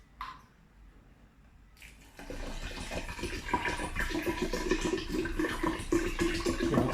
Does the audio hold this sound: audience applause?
no